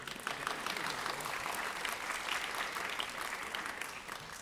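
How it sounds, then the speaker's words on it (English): Concert audience at a music competition fundraiser clapping steadily, a dense and fairly quiet wash of applause without a break. "We can clap again. I see someone wanted to clap. Let's clap."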